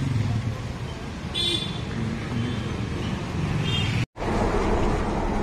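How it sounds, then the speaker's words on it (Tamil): Truck on a Bangalore-area road, engine rumbling steadily up close while reversing and turning, with passing traffic and a brief honk in the background. "இதில் தான் நம்ம ரிவர்ஸ் விட்டு நம்ம வண்டியை திருப்பணும்"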